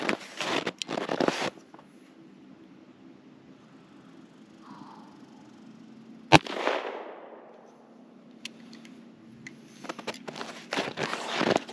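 Two sharp .22 rimfire gunshots fired at a 40-yard target outdoors, one near the start and a louder crack around the middle, each trailing off into a brief echo, with quiet ambient rustle between.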